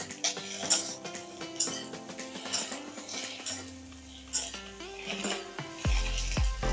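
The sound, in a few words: stirring okra and green chilli in a pan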